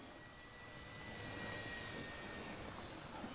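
A small WLtoys K127 radio-controlled helicopter flies at full speed into the wind, giving a faint, steady high-pitched rotor and motor whine with a few thin tonal lines, swelling slightly as it passes.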